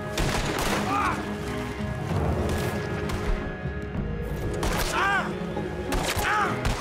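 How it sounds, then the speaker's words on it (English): Gunfire aimed at the player in Red Dead Redemption 2, a dense, loud barrage of shots and thuds filling the scene, with brief whistling ricochet-like tones near the end. "Who the fuck's shooting me?"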